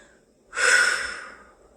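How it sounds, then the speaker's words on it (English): A single slow, airy exhale through pursed lips, like breathing out through a straw, rising abruptly then fading gradually over about a second, close and alone. "And slowly exhale like you're breathing through a straw."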